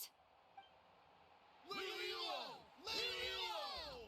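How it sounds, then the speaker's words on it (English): Crowd cheering in Genshin Impact: two surging bursts of many voices yelling and whooping, each lasting about a second, after a quiet start, moderately loud. "Hear that? The exhilarating cheers of the crowd."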